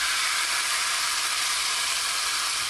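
Curry paste with tomatoes simmering in a pan gives a steady, even sizzling hiss that carries on without a break, close by, with no voices.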